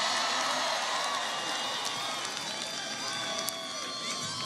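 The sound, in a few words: crowd applauding and cheering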